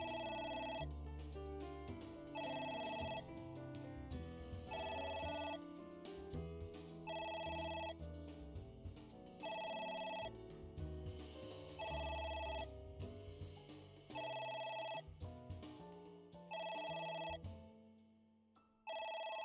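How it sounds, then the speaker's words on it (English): A telephone rings in about eight evenly spaced, loud electronic bursts, each separated by a short pause, with no other sound beside it. "I'll have to just stare at a ringing phone."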